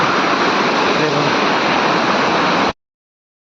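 Korlai waterfall, swollen with heavy rain, pours out a loud, steady rushing roar that cuts off abruptly after nearly three seconds.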